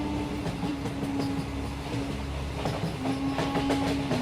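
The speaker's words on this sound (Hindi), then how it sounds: "इन लोगों का ट्रेन बहुत ही सुनसान और खतरनाक रेगिस्तान से होते हुए जा रहा है।" A cartoon train travels through a desert, its steady clickety-clack rolling on at a moderate level with a faint whistle-like tone threaded through and no voices.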